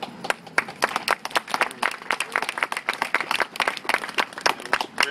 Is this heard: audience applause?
yes